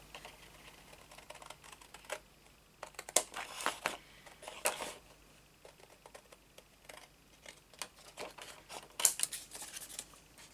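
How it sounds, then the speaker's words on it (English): Scissors snip through paper close up in irregular bursts of crisp cuts, with faint rustling between them and no talking. "I feel safe enough to cut this with scissors because I have a line to follow"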